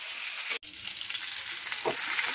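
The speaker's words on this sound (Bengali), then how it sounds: "এখানে সবজি ভাজা হচ্ছে, অনেকগুলো সবজি একসঙ্গে দিয়েছি" A large mixed batch of vegetables for Bengali shukto fries in a pan with a dense, steady sizzle up close. One abrupt silent gap breaks the sound briefly, then the hiss resumes. No voices.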